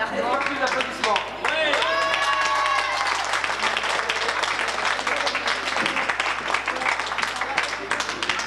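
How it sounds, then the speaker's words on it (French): A crowd applauds with dense, steady clapping over a background of voices and cheers, loud and sustained for several seconds. "Plus d'applaudissements."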